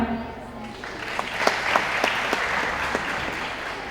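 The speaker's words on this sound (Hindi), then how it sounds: "आपकी तालियाँ" At an Urdu department mushaira, the audience applauds a poet. A voice comes first, then dense clapping swells with a few sharp, distinct claps standing out.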